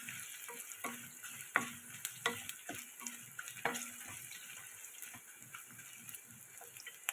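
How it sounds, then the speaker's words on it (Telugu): Turmeric is stirred with onions in a hot frying pan for a cucumber and spinach curry, producing soft steady sizzling under frequent close scraping strokes of a spoon, with no voices. "ఇది కొంచెం మాడకుండా కొంచెం కలుపుతూ ఉండాలి."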